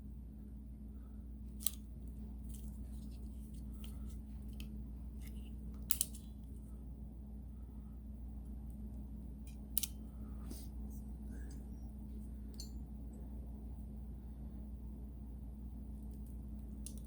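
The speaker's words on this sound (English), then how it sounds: "So I'm going to crimp on an end." A terminal end is crimped onto a white wire on a 1973 Moto Guzzi Eldorado, giving a few faint, sharp clicks several seconds apart over a quiet low hum.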